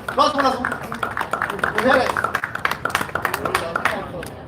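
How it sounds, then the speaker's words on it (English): Scattered clapping from a crowd at a boxing press conference greets the ring card girls, loose and uneven rather than a steady roar, with voices and talk mixed in throughout. "round of applause for ladies"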